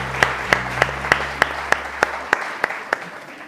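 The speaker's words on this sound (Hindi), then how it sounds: "इनके लिए बहुत सारी तालियां बजाइए" A studio audience on a Pakistani TV morning show claps together in a steady, even rhythm, about three sharp claps per second, fairly close and clear, fading slightly toward the end with no talking.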